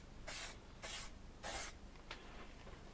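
An aerosol sprays a thick coat of paint onto a textured iridescent platter in three distinct close hissing bursts, each about half a second long, followed by a shorter fourth puff, with no voices.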